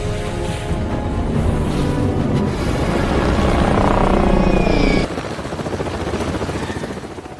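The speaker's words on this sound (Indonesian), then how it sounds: "Pesawat yang dikemudikan Trudy lalu pergi mendarat pada satu daratan hutan Pandora." An aircraft's loud engine roar, rising then easing abruptly as it comes in close, with a steady whirring drone throughout.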